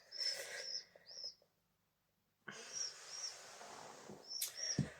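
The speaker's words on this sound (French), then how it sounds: "J'ai mes petits bébés pigeons qui sont dans la même pièce que moi" Baby pigeons in an indoor room give thin, high whistling squeaks, several short peeps in two clusters separated by a brief silence, soft and faint with quiet room noise.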